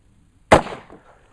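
A single sharp, close report from a Taurus Judge Public Defender polymer revolver fired from double action at about 20 feet, with a short decaying echo and no talk.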